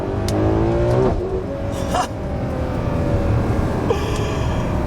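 A Ferrari 12Cilindri V12 engine revs hard and accelerates, its roar rising and shifting pitch, loud and close throughout.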